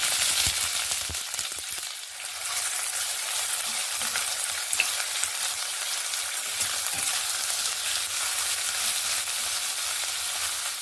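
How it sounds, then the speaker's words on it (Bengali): Chopped onions frying in hot oil in a kadai until crisp and browned, giving a loud, continuous hissing sizzle that holds steady throughout, close up and with no voices. "কুচনো পেঁয়াজগুলো আমি বেরেস্তার মতন ভেজে নেব।"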